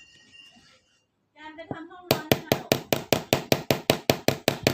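Hammer blows while prying open an iPad charger casing: after some brief speech and a pause, a rapid, even series of about a dozen sharp, loud taps rings out close by.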